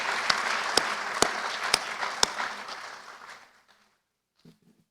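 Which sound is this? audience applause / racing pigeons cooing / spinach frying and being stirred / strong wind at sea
audience applause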